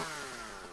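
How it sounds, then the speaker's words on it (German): A chainsaw revs in a Minecraft mod battle game, a buzzing motor drone heard briefly and fairly faintly, with no talk over it. "Da packt er die Kettensäge aus."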